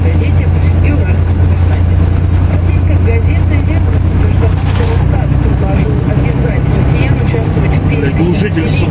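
A Volvo 290 engine with a noisy muffler drones continuously, a loud, dense low rumble that fills the whole clip.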